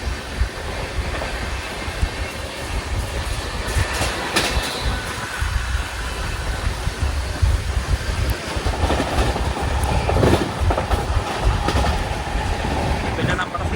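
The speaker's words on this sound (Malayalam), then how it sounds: "ട്രെയിൻ ഇപ്പോൾ എലൂരു സ്റ്റേഷനിലേക്ക് ഇതാ എത്തുകയാണ്" Coromandel Express train running steadily on its way toward Eluru station, a continuous loud rumble with rhythmic clickety-clack of wheels on rail joints heard from inside a sleeper coach, with voices talking over it.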